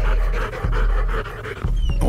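A lively, protective family German shepherd pants heavily and rhythmically close by, each quick breath loud and steady over a low rumble.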